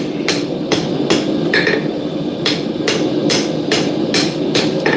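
Hot steel struck with a hammer to upset a forge weld on a hammer head at a smithing forge: about a dozen loud, ringing blows in a fairly steady rhythm, close and clear with no talk.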